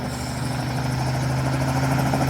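A helicopter in a video game, a loud, continuous rotor thrum with a steady engine whine, heard alone.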